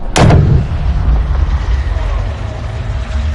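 A golf ball is struck off the tee in a PS4 golf video game: one sharp, loud hit at the start that fades into a low rumbling ambience.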